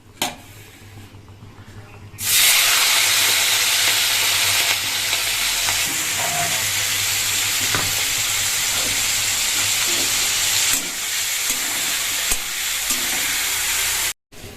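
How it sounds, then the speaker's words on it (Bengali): Loud, sustained sizzling of turmeric-and-salt-coated prawns dropped into hot oil bursts in after a quiet moment and crackles steadily until it cuts off. "এবার হচ্ছে আমি চিংড়ি মাছটা ভাজবো"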